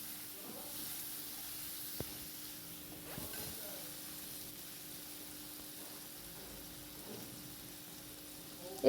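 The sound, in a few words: masala and bowl-rinse water being sautéed in a pan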